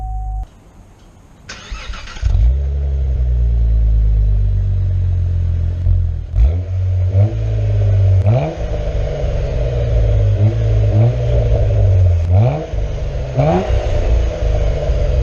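A 2016 Cadillac ATS-V with a manual gearbox fires up with a loud starter whir and roar, settles into a rumbling idle, then gets several sharp throttle blips that rise and fall, recorded close by with no talking.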